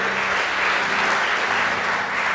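A church congregation applauding steadily during a sermon, a dense wash of clapping that holds at an even level throughout, with no voices on top.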